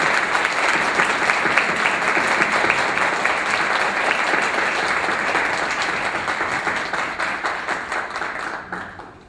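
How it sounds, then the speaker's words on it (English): A graduation pinning ceremony crowd applauds the graduating undergraduates with dense, sustained clapping that holds steady for several seconds, then thins into scattered claps and fades at the end. "Give those undergrads a round of applause."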